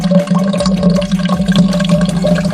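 A household chemical poured into a container, a close, steady splashing and gurgling of liquid with an underlying hum, loud throughout.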